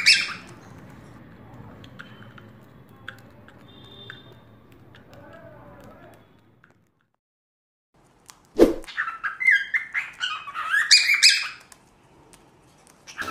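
A pet lovebird gives sharp, high chirps and squawks in a burst during the second half, close by, after a stretch of quiet background noise and a brief pause.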